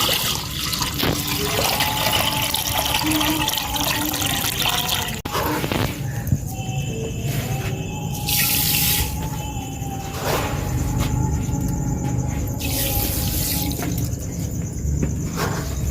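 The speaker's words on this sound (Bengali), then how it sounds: "এখন আমি সেরাটা তৈরি করার জন্য পানি দিয়ে দেবো" Water poured into a cooking pan to make sugar syrup for gaja sweets: a continuous splashing and trickling stream lasts throughout, with occasional clinks of the pan.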